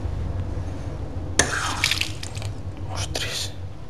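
Water runs and splashes from old taps in an abandoned millionaire's house in Portugal, starting abruptly as a bright gush with a few sputtering bursts, over a low background hum.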